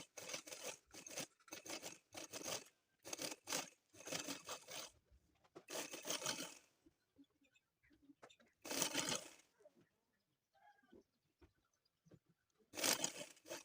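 Sewing machine stitching lace onto the fabric of a girl's sleeve, heard as several close, loud bursts of running stitches separated by pauses with soft handling noises.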